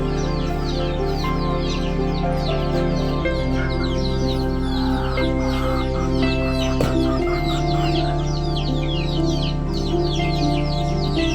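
Several chickens cluck and chatter continuously, close by, over a steady low hum.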